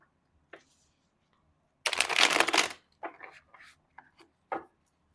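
A clarifying tarot card deck being shuffled, with one long riffling burst in the middle and several shorter card flicks and taps after it, close and fairly quiet.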